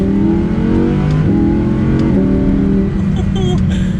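An Audi R8 V10 Plus engine revs hard through several upshifts, each climb in pitch dropping after a gear change, loud and close with a steady roar.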